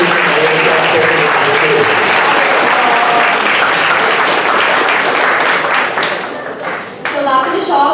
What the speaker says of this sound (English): can we just get one more round of applause to both of them